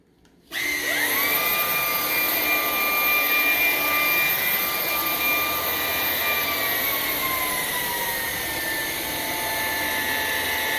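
Ryobi cordless stick vacuum switched on in economy mode, a sharp motor whine rising at start-up, then a steady high-pitched whirr that eases slightly lower near the end, close and alone.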